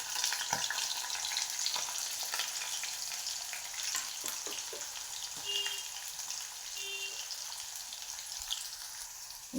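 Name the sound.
onions frying in hot oil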